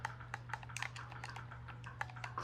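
Fingers tap out a search on a keyboard, quick irregular keystrokes in short bursts, faint and close, over a steady low hum.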